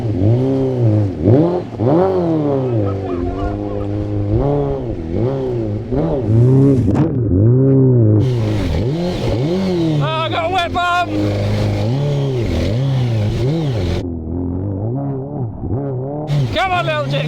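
A Suzuki GSX-R1000 motorcycle engine revs hard in repeated bursts while being ridden off-road, loud and near, with rhythmic rising and falling pitch and a few clattery moments, and a voice briefly shouting over it.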